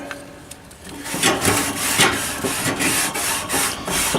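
A Scotch-Brite pad scrubbed back and forth across a metal grill grate, giving steady rasping strokes that build after the first second and continue in a rough, close rhythm.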